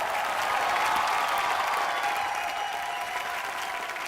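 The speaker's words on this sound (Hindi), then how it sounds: "जोरदार तालियां सर लाइए।" Loud, sustained applause from a television studio audience at an entertainment show, a dense wash of clapping that continues steadily throughout with no break.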